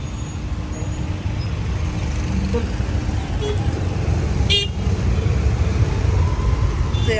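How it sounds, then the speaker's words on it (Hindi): Busy road traffic surrounds a dog being walked, with a steady rumble of engines and a short horn toot midway, close and continuous. "तो यहाँ पर पूरा ट्रैफिक हो रहा है"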